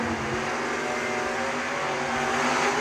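A BMW drag racing car roaring past at a drag strip, a loud continuous engine blare with a dense broadband rush and no clear pauses.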